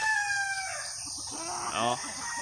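A rooster crows loudly nearby, followed by clucking chickens over a steady background hiss.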